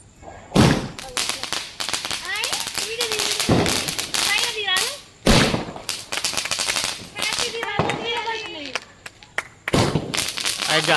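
Diwali firecrackers shooting skyward like rockets, sending out several sharp cracks and pops spaced across the stretch, mixed with people talking and calling out nearby.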